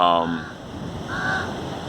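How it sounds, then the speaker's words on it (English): Crows caw loudly nearby, two drawn-out calls separated by a pause, over a steady wash of surf in the background. "the sound of the waves and the crows that you're probably hearing right now"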